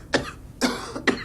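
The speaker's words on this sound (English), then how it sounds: "he's coughing like me" A character in the video game Fallout 4 coughs three times in quick succession, close and fairly loud, each cough short and harsh with a slight throaty edge.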